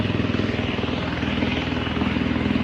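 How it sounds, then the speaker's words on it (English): A helicopter in Bahrain thuds with loud, rapid, regular blade pulses over a constant engine roar that stays steady and close the whole time. "Noisy helicopter."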